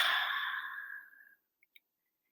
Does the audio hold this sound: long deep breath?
yes